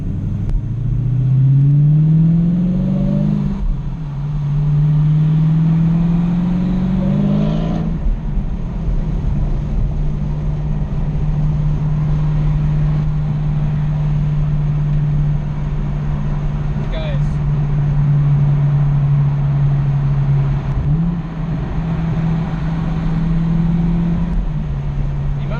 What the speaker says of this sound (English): Got to hear that exhaust.